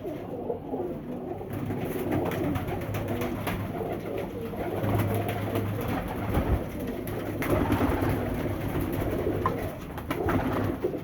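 Sialkoti pigeons coo in soft, repeated low calls over a faint steady hum, the rounded notes overlapping and recurring throughout at moderate distance.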